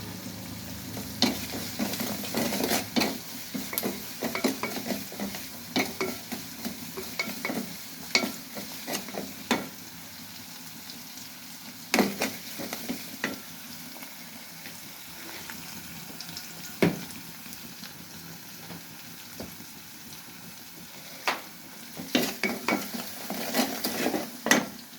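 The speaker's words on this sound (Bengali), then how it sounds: "একটু ভাজা ভাজা করবো। এগুলো একটু ভাজা ভাজা হলে রসুন বাটা দেবো।" Onions sizzle and fry in a pan for chotpoti dal while a spoon stirs them, with steady crackling broken by frequent sharp scrapes and clinks against the pot, close and continuous.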